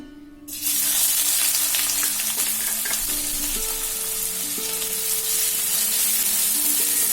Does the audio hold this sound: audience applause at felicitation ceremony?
no